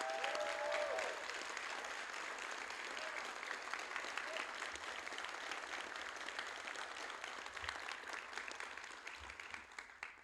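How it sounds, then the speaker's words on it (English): Audience applause at a Coast Guard Training Center Yorktown boatswain's mate A-School graduation, honoring advisors and instructor staff; steady, dense clapping from a large crowd lasting about ten seconds without a break. "giving them a warm round of applause"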